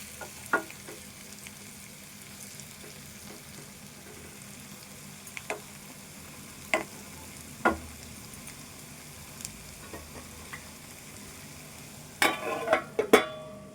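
Potato and tomato curry frying in a pan, with a quiet continuous sizzle broken by sharp scraping stirs every second or two and a louder cluster of clatters near the end.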